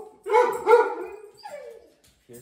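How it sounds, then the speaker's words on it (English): A household dog barks and howls nearby, two loud drawn-out calls in quick succession followed by a falling whine, with no talk over them. "Here's the dogs."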